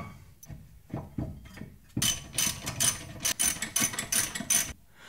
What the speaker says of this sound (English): I'm now just torquing them up with my torque wrench to 65 foot-pounds of torque.